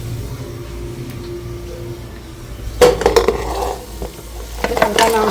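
Goat head meat drops into a hot pan with a sudden sizzle and clatter, followed by brief stirring scrapes. A quiet stretch comes before it.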